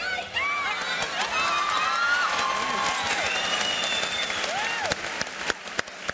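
An audience claps and cheers as a man hugs a child, a steady wash of applause with excited children's shouts and whoops rising above it, continuous for several seconds with a few sharp claps near the end.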